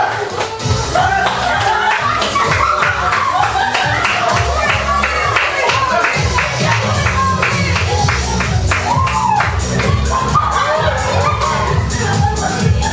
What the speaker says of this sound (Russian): Болельщики поддерживаем!